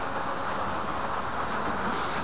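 A computer-controlled model train runs on its track with a continuous, close, dense rolling hiss and rumble that holds steady, brightening slightly near the end.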